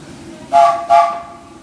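Steam whistle of the Disneyland Railroad's Fred Gurley Engine #3, two loud close blasts in quick succession, each fading out over a quiet background.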